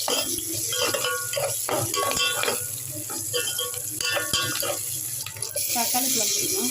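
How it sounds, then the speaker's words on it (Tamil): Curry leaves, spices and salt sizzle while being sautéed in hot oil in a pan, a steady frying hiss with light clinks of a stirring utensil throughout. "நல்லா வதக்கிக்கலாம்."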